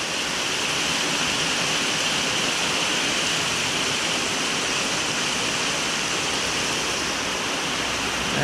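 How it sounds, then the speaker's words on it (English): Heavy rain drums hard on tin roofs overhead, a dense, steady, loud roar of water that continues unbroken throughout with no voices. "So noisy underneath these tin roofs."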